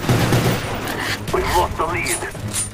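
Akimbo M1911 pistols firing in a Call of Duty game, a rapid burst of shots mixed with game effects and a voice talking over them.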